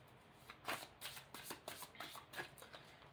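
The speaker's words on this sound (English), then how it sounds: "And you know I always pre-shuffle," A deck of tarot cards being shuffled, with repeated crisp riffling bursts at a steady rhythm, close and fairly quiet, with no voices.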